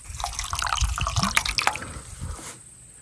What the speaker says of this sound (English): you're gonna pour cold water into the pot